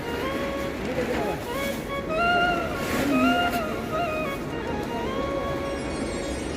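The Saraswati river flows below Mana village near Badrinath, making a steady broad rushing wash heard from above, with someone speaking over it throughout.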